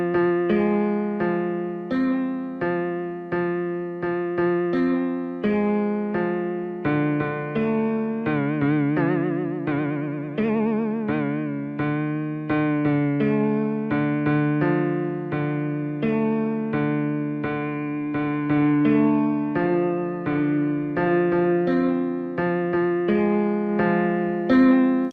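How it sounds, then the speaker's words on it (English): A lo-fi acoustic piano plugin plays sustained chords and a melody with a gritty, saturated, slightly warbling tone, steady and continuous with no voices. "It's a great character piano for indie rock, lo-fi obviously"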